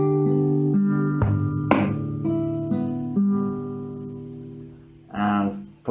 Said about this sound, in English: So the main riff of the song, if you want to call it, sounds like this slowly.